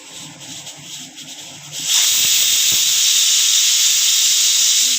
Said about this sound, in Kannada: ವಿಷಲ್ ಬರ್ತಾ ಇದೆ ನೋಡಿ ಫ್ರೆಂಡ್ಸ್.